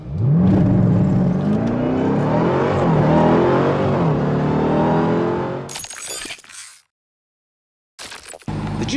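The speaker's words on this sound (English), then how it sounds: "Let's do launch control. We press the launch button, apply brake pressure all the way down." A Dodge Durango Hellcat with a supercharged V8 launches hard from launch control, the engine roaring loudly up through the revs with a rising supercharger whine for several seconds before the sound cuts out abruptly.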